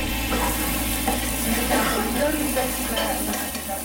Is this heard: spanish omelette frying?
yes